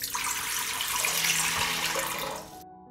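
Water pours steadily into a cooking pot, about 1.5 liters, as a continuous loud rushing splash that swells slightly in pitch as the pot fills, then stops abruptly near the end.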